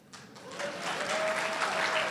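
Applause from an audience at a 2015 training session, a steady wash of many hands clapping that rises within a fraction of a second and holds loud and dense for about two seconds.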